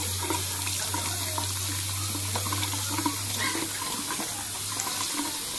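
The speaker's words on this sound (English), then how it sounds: "He's about to get his shower too." Water from a shower runs steadily over a puppy in a kennel, a continuous close hiss of spray and splashing with a low hum beneath it, no voices over it.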